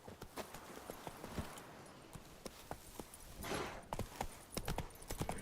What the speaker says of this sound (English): How about we call Roach? And again, could have come from just behind me, could have come from over there. Nope, comes through the trees